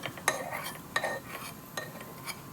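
A metal utensil scrapes and clinks against a pan while coconut pieces and curry leaves fry in oil, a few distinct knocks over soft sizzling, close by.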